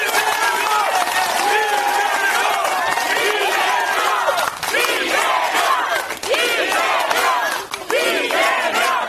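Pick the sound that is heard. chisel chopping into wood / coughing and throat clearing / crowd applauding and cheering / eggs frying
crowd applauding and cheering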